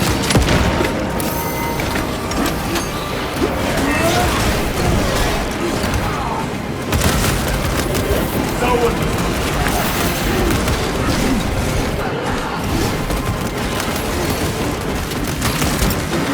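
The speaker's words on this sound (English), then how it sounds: "Throwing frag grenade!" Dense battle noise from the Warhammer 40K Space Marine 2 video game: a frag grenade blast amid sustained gunfire and booms. The sound is loud and continuous, with mechanical clatter and shouted voices mixed in.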